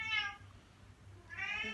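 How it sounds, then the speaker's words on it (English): A cat meows twice in the background, two drawn-out cries separated by a short pause, fairly faint and heard alone with no talking. "I apologize for the cat meowing in the background."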